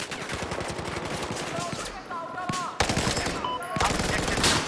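Gunfire from a Transformers: Revenge of the Fallen video game, rapid automatic bursts crackling close and loud with brief pauses and electronic weapon tones between volleys.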